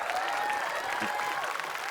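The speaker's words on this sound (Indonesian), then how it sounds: "Tepuk tangan sekali lagi buat juri Votlog." Steady applause from an audience at an Indonesian comedy competition, a continuous wash of clapping with a faint tonal hum or voice line running through it.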